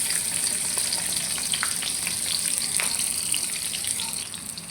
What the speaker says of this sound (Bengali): তো পেঁয়াজটা এখন ভেজে নেই।